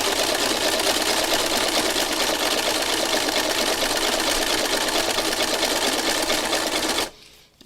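A sewing machine stitches continuously in place, going back and forth without advancing, its steady loud whirring rattle running for about seven seconds before stopping abruptly near the end.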